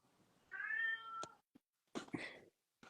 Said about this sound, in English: Cat meowing now.